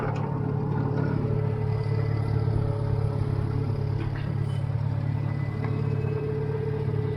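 A vehicle's engine idles and chugs steadily at moderate distance while moving a small utility trailer on a hay farm, with faint clattering over the continuous low drone and no talking.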